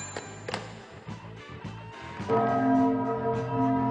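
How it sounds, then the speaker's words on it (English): A chime bell rings on a horror-comedy TV show, a few clear struck tones with sustained harmonic ringing building into a louder, fuller chord of overlapping bell tones, with no speech. "It is chime time."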